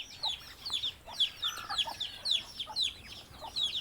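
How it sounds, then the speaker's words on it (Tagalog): A mother hen clucks in a steady run of short, close calls at a farmyard, with other fowl chirping faintly behind, no voices. "May nanay pang manok"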